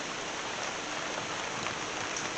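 Steady rain pours down in a dense, even hiss with no breaks, close by and fairly loud, with no voices.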